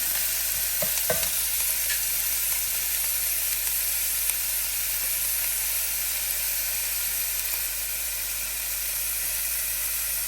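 Chicken and broccoli frying in a pan give a loud, steady sizzle with a constant hiss and a few brief stirring scrapes near the start, with no voices.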